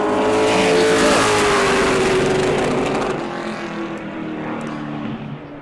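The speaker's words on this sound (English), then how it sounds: "TJ DeCare in this baby blue 88 machine will be our next car on the clock" A baby blue number 88 Pro Late Model race car on a qualifying lap at New Smyrna roars past loud and near, its engine pitch sliding down as it pulls away and fades.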